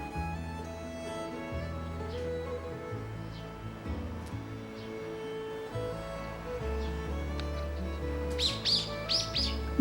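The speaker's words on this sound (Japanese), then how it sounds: "朝一番の仕事は鳥たちの朝ごはん。" Wild birds at a garden feeding spot on a winter morning give a few sharp, quick chirps, mostly clustered near the end, over soft steady background music.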